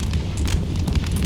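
Massed musket volley fire on Grenadiers in Empire Total War, a dense, continuous roar of overlapping gunfire crackle and booms that fills the short moment at loud volume without any talk.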